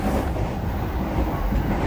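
A JR Keiyo Line 209-500 series train, faulty, rumbles steadily close by as it arrives at a station platform, a continuous low roar of wheels and carriages rolling along the rails.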